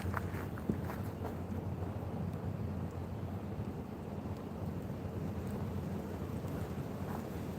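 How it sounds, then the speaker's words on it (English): Wind blowing outdoors against a microphone, a steady low rumbling buffet with occasional gusts and faint taps, continuous for several seconds. "The wind's trying to take my umbrella away."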